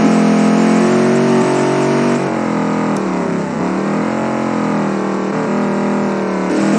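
A steady, throaty muscle-car-toned engine from a 90s track car in BeamNG.drive drones continuously at close range, its pitch dipping and rising slightly as it shifts, with no voices.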